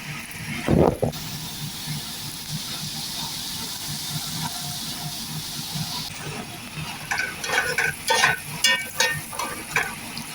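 Raisins and carrots fry in a pan with a constant hiss and sizzle, a loud scrape near the start and rhythmic stirring clatter toward the end.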